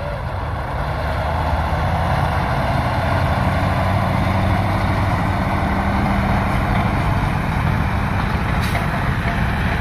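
Heavy trucks, one carrying an excavator and one fitted with a crane, pass each other at a Jakarta–Bandung high-speed rail construction site, a steady loud diesel rumble with low engine drone throughout and no talk.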